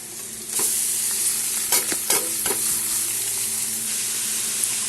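Two medium papayas go into a pan of crushed fried potatoes; a bright sizzle rises after a quiet start, with several sharp scraping stirs of the spatula close by.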